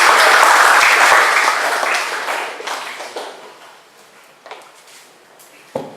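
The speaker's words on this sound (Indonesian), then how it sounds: "Tepuk tangan dulu buat." Audience applause at a tech meetup on IoT, a loud burst of clapping that gradually thins out and fades, leaving a few scattered claps and knocks toward the end.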